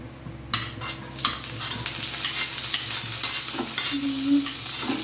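Five-spice mix and bay leaves fry in hot oil for a lentil khichuri, with a steady close sizzle and intermittent scraping strokes of a stirring spoon, no voices.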